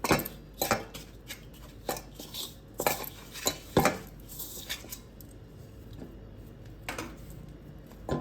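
Rice flour laddoo mixture being worked together with sugar syrup in a pot, irregular clinks and scrapes of a spoon against metal with soft stirring between, fairly close and moderately quiet.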